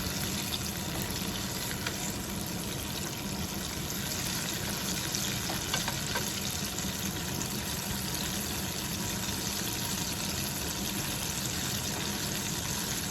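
A second batch of salt and pepper pork ribs deep frying in hot oil gives a dense, even bubbling hiss that holds steady at moderate loudness throughout, with no voices over it.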